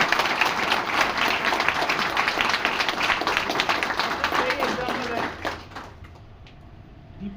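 An audience at a branch office anniversary meeting claps loudly and steadily, the applause thinning and fading out toward the end, with some voices underneath.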